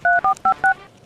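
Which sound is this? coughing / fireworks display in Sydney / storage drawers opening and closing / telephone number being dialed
telephone number being dialed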